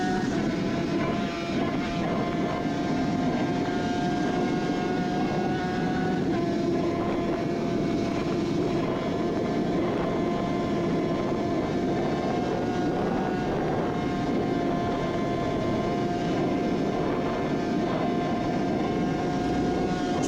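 Onboard recording of a Suzuki RG500 racing motorcycle on the Mountain Mile, with its engine droning steadily and loudly at a sustained pitch throughout, wind roar beneath and no pauses.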